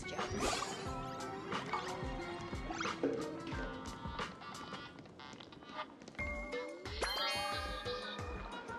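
Glasses clinking in a toast in Honkai: Star Rail: several bright, ringing clinks and dings scattered over a dense bed of game music and effects, with shimmering tonal sweeps near the end.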